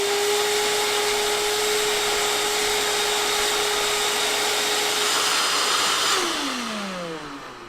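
A vacuum cleaner drones steadily and loudly while clearing debris and mouse droppings out of an abandoned Mopar car left sitting for over 20 years, its motor whine holding constant before dropping in pitch and winding down as it switches off near the end.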